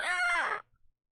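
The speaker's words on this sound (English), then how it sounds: "the call of a bird" A bird calls from a nearby tree, a single drawn-out, warbling tonal cry lasting just over half a second. It is fairly close and heard alone, followed by faint rustles and then quiet.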